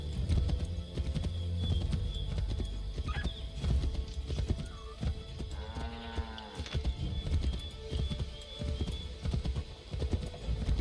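Horse hooves clop while riding in Assassin's Creed III Remastered, a steady galloping rhythm under busy game ambience with animal calls and a short mooing-like sound midway.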